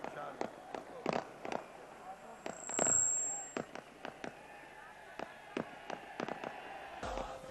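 Firecrackers crack off at an outdoor political rally in Haroonabad, a run of sharp separate bangs scattered through the clip over crowd noise, with one longer whooshing burst and whistle in the middle.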